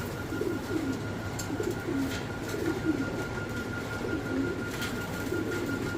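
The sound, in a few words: fancy pigeons cooing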